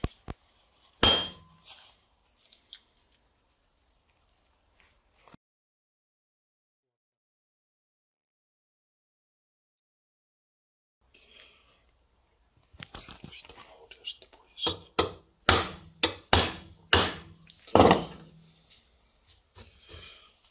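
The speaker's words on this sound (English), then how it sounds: "I'm using a drill bit to punch the starting holes for the drilling locations" A drill bit tapped like a punch to mark starting holes on metal while fitting a dual brake pedal, giving a run of sharp, close metallic taps in uneven rhythm after faint whispery sounds and a long quiet stretch.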